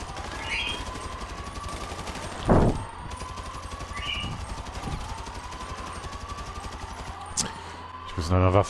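Gunfire in the online game GTA V, with a pistol shot standing out as a sharp burst near the 2.5-second mark and further fainter shots later, over a steady game background hum and tone.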